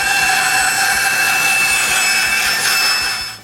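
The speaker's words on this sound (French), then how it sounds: "Je commence par couper une courbe aléatoire," A band saw cuts a random curve through wood, a loud continuous rasping whine with a steady mechanical hum beneath, close by and holding throughout before easing off at the end.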